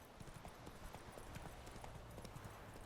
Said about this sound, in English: let's get into a gallop